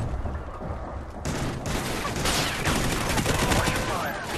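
Dense gunfire in Call of Duty: Ghosts, with rapid overlapping automatic bursts and booming shots rattling continuously at close range amid the game's battle din.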